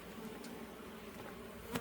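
Honey bees buzzing during a hive inspection, a steady faint droning hum with a few brief closer passes, no talk.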